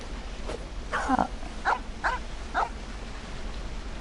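Dog barking in the video game Genshin Impact: four short barks spaced about half a second apart, moderately loud over a steady background hum.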